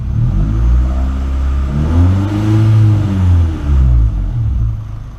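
A car engine fitted with an RPM shift-light mod is held at about 3,000 RPM, giving a loud, close, steady droning rev whose pitch swells gently up and down throughout, with no talking.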